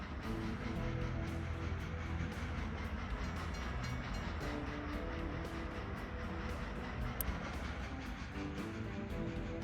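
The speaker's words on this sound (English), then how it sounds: "Dropping off more potatoes, my potato train." A potato-carrying freight train in a video game rolls along its rails, a steady continuous rumble with faint repeating clicks, loud and unbroken throughout with no talk.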